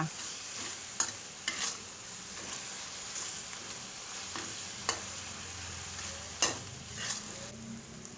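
Yakisoba with minced pork is stirred in a hot frying pan, a continuous quiet sizzle broken by occasional sharper scrapes and taps of the utensil, close and alone without talk.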